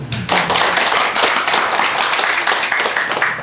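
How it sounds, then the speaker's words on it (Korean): A church congregation at a Sunday worship service claps together, a loud dense burst of many hands that starts sharply and keeps up steadily for several seconds with no talking. "박수 한번 쳐주시죠."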